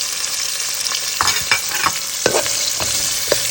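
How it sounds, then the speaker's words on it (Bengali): Chopped onion, bay leaf, green chili and garlic frying in oil for a fish-head and taro-leaf dish, a soft steady sizzle broken by several clattering stirs of a spoon against the pan. "এখন এটাকে সুন্দর করে একদম লাল লাল করে ভেজে নিব।"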